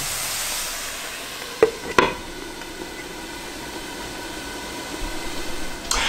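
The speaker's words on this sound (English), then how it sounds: "while your onions are sautéing in the skillet" Onions for meatloaf sauté in a skillet, giving a steady soft sizzling hiss throughout, broken by a couple of sharp clicks of a utensil early on.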